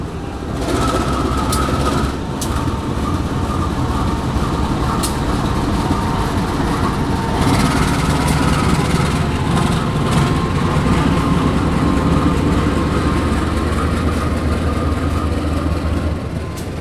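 Train and locomotive at Cirebon station rumble steadily with a low, continuous engine drone and faint rail clatter, heard up close with no talking.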